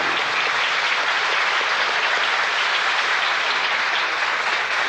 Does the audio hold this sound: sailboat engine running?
no